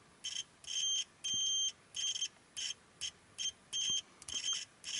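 A cheap Aneng multimeter's small continuity buzzer beeps high-pitched in irregular bursts, some short and some held longer, loud and close with no talking.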